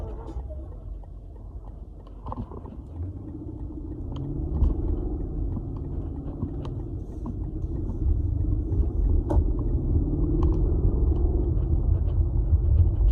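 A car engine rumbles steadily while cruising in traffic, a low continuous drone that grows slightly louder midway, with faint interior ticks and no clear talk over it.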